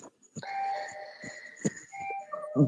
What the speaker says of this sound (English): someone's ringing my bell annoyingly.